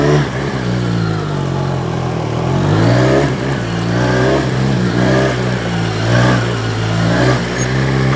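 A motorcycle revs and accelerates repeatedly through a straight-line gymkhana pylon slalom, its mid-pitched engine note rising and falling in rhythmic surges as it weaves close by, loud and steady with no talking.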